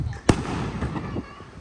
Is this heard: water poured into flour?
no